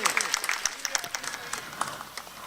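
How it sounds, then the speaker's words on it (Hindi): Applause from an audience at a live musical Shri Ram Katha event, honoring Badal and Shubham Jha: scattered, fairly light clapping with sharp individual claps standing out, moderately distant and steady for a couple of seconds. "एक बेर जोरदार ताली बजाबियो बादल और शुभम झा जी के लिए"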